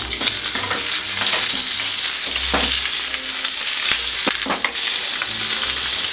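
Lamb shanks fry in hot oil in a pan, a steady loud sizzle broken by repeated scraping and stirring clatters as the pieces are turned, with no voices.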